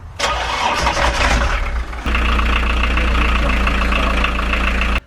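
A narrowboat engine, preheated beforehand, cranks over, catches and settles into a loud, steady idle close by.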